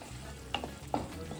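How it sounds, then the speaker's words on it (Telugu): Cut green chillies frying in a pan, a brief steady sizzle with two sharp pops or stirring clicks, close by. "ఆ చిల్లీస్ కూడా వేసుకొని మంచిగా ఫ్రై చేద్దాం"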